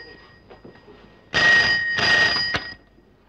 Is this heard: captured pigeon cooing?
no